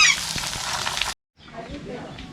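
Chicken hits hot oil with whole spices and onion, a loud hiss that breaks off abruptly into a moment of silence, then returns as a softer, steady sizzle.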